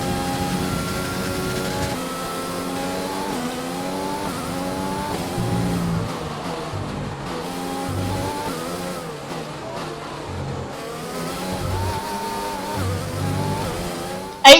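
A Jordan Formula 1 car runs a qualifying lap in the F1 2020 racing game, its engine screaming steadily for the whole stretch, with pitch climbing and dropping through gear changes and corners, loud and up close.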